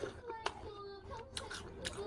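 Crisp crunching as someone bites into a juicy Naju pear, several sharp bites spaced apart at close range, with soft murmured voice sounds between them.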